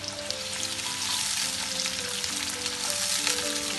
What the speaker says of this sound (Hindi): अब मैं इसके अंदर प्याज डालूंगी। पहले प्याज को मैं गोल्डन ब्राउन करूंगी हल्का सा।